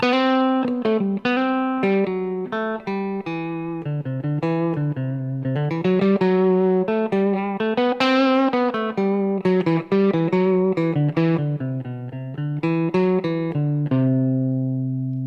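An electric guitar plays a quick major scale and Lydian mode run, single notes ascending and descending in a bright, sustained tone, with no talking.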